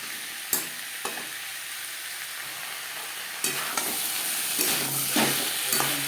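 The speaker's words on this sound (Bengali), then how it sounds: "মশলার সাথে আলু বেশ ভালো করে মিক্স করে দেবো।" Peeled, cut potato pieces are turned through spices in a sizzling pan for a fish curry, with a steady frying hiss broken by several sharp scrapes and clanks of the spatula, no voices.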